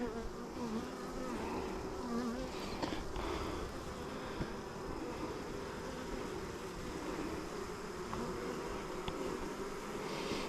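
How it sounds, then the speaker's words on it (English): Honey bees buzzing steadily and close during an open hive inspection, a dense continuous drone with no voices over it. "Except for those bees in between the slats there."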